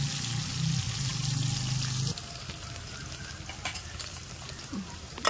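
Masala frying in a pan until browned, a soft steady sizzle with faint stirring and scraping, low and close, with a brief hum early on and no talking.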